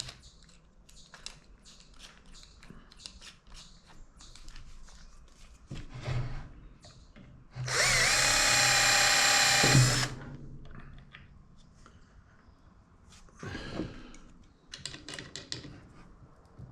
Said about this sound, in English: Then go ahead and increase the drill bit diameter slowly so I don't end up splitting the wood.